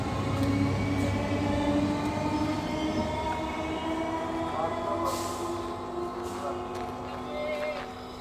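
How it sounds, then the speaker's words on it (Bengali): A train rolls into a station, with a rumbling, rattling drone and faint wheel squeals, steady and fairly loud, under a narrating voice. "ট্রেনটা স্টেশনে যখন দাঁড়ালো, তখন সন্ধ্যা নেমে এসেছে।"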